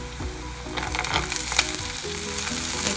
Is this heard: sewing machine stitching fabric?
no